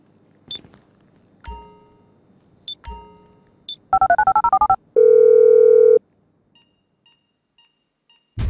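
An in-game phone in Grand Theft Auto V gives a few scattered clicks and chimes, then a quick run of keypad dialing beeps and a loud, sustained dial tone, followed by faint soft pips.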